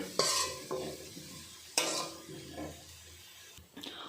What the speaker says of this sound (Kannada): ಬ್ರೌನ್ ಕಲರ್ ಬರೋವರೆಗೂ ಫ್ರೈ ಮಾಡಬೇಕು